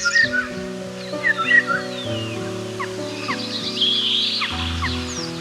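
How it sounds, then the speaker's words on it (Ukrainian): A starling's varied whistles and chirps ring out over steady background music, with a few sliding notes and short trills. "в них оселяється шпак. Ось послухайте, як він гарно співає."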